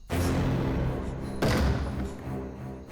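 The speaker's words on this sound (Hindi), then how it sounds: "दरवाजा खटखटाना बंद करो।" Two heavy, close thuds land on a door about a second apart, each followed by a brief dull rumble.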